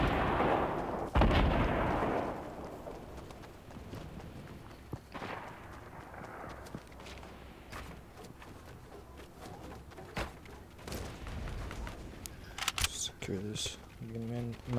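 Rifle gunfire in Fortnite 50 vs 50 gameplay: several sharp, loud shots and bursts spread through the stretch, mostly between 12 and 15 seconds, over steady game ambience with some clicky interface sounds.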